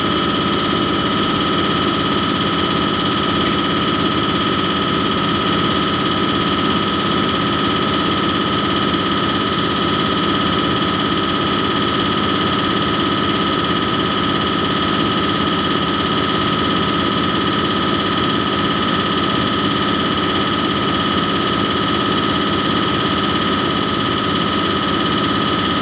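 Diesel injector firing on a calibration test stand at 180 MPa and 1700 µs, a continuous dense mechanical buzz with steady tonal whine and rapid fine ticking, unchanging throughout.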